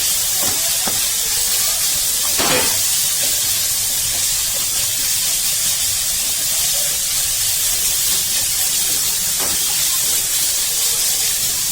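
Capsicum and onion stir-fry with ginger for veg chowmein, giving a loud, continuous hiss of hot oil with a few sharper spatters and faint clinks.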